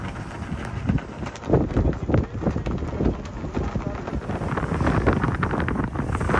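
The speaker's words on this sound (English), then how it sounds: "Wind has picked up." Strong wind buffets the microphone aboard a tall ship under sail among the Elizabeth Islands, a rough continuous roar with gusts that build louder toward the end, with water rushing against the hull beneath it.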